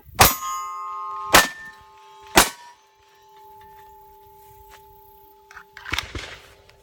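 Three sharp metallic clangs ring out a second apart as .45 ACP rounds strike a steel target, each leaving a lingering ringing tone, followed by a softer clatter of impacts.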